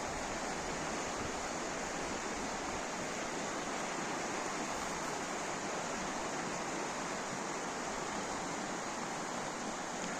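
Rushing high spring water of the Opir, a mountain river in the Skole Beskids, roars steadily and close by as a broad, unbroken wash of turbulent flow with no pauses.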